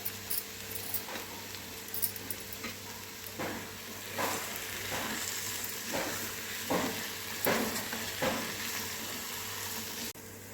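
A pan of tender brinjal and tomato curry with fresh coriander is stirred over heat, its soft sizzle broken by a steady series of scraping spoon strokes, close and moderately quiet with no voices.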